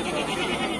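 A goat bleats close by at a Qurbani livestock market in Natore, a short continuous cry over the dense murmur of the crowd and the hubbub of the market.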